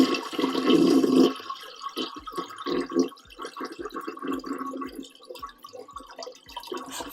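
A toilet flushes loudly with a rushing gurgle for about a second, then water trickles and refills with repeated drips and splashes, close and alone.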